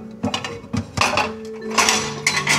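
A cooking pot of vinegar-seasoned broth being covered with its lid: several sharp metallic clinks and clatters of lid against pot, close and fairly loud, over a low steady kitchen background.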